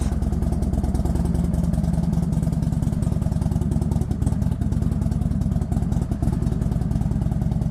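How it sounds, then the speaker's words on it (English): A warmed-up Yamaha R6 motorcycle engine runs at a steady idle close by, with a fast, even pulsing throb and light mechanical clatter, no voices over it. "Alright, got the bike started up, it's warmed up."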